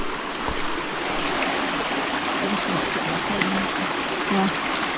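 Running water from a stream at a trail water source on a backpacking loop in Linville Gorge, a steady broadband rush and trickle that continues evenly throughout, fairly close with no talking.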